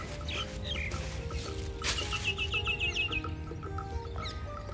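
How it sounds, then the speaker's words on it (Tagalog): Birds calling in Abrasha Park in Jaffa, Tel Aviv, with clucking, rooster-like calls and chirps over a steady outdoor hum, some close and others farther off. "Maraming ibon dito."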